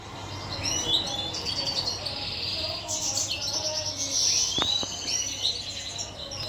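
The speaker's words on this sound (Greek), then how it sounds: "Αυτά είναι τα πουλιά γεννήτορες που λέμε" Large breeder birds chirp continuously, with dense, bright tweets and calls layered over a constant low background hum. The sound is steady throughout, with no voices.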